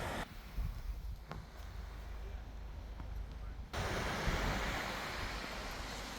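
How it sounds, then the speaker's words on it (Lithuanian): Atlantic Ocean surf breaks on a beach along Ireland's west coast, making a continuous broadband wash mixed with wind, which swells louder partway through. "dabar mes esame tokiam paplūdimy, štai prie Atlanto vandenyno"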